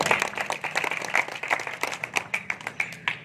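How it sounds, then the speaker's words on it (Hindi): Audience applause at a gathering, a mix of individual claps and scattered group clapping that thins toward the end into distinct separate claps, moderately loud with no speech over it. "सबके लिए तालियां।"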